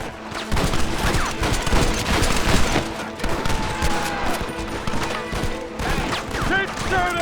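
Sustained gunfire from a firefight in the Western video game Red Dead Redemption, a dense barrage of shots filling the scene at steady loudness with game speech and effects mixed in.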